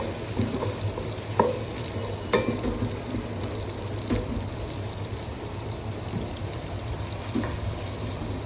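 Chopped onion fries in a pan for a banana-flower stir-fry, giving an even, hissing sizzle with a few sharp clicks of stirring scattered throughout, close and unbroken by speech.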